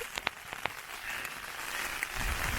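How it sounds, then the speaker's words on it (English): Rain falls harder outdoors in Suriname, a soft, steady patter of drops that grows denser toward the end, preceded by a few sharp nearby taps. "Woo, the rain is coming down harder."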